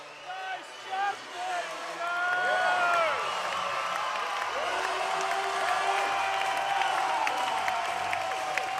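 Basketball crowd at a QBL men's grand final, Townsville Heat versus Mackay Meteors, roaring in a loud sustained wall of cheering and whooping, with commentators' voices rising over it at the start.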